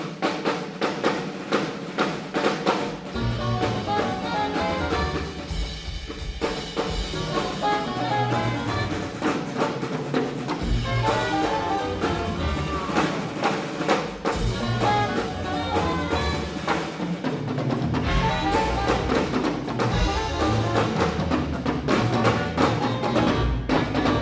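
A band plays fast jazz built on the whole tone scale, dense and busy with rapid runs and steady driving rhythm, loud and continuous throughout with no talking.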